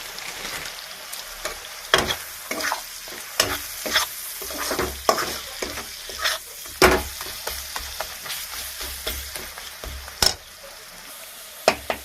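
Chopped onions sizzle steadily in a hot pan while a spoon scrapes and stirs them in repeated sharp strokes, close and fairly loud, with no voices.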